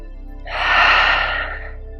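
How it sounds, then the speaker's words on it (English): A single deep, slow exhale out through the nose or mouth during a gentle yoga flow, a close, breathy rush of air that swells and fades over about a second. "deep breaths out through the nose, or out through the mouth if that feels good"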